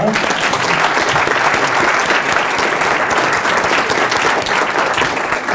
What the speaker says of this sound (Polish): bardzo proszę o gorące brawa